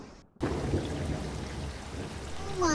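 Heavy rain with thunder in an animated short: after a brief quiet gap, a dense, steady downpour roar starts abruptly and continues loud and close, with low rumbling underneath.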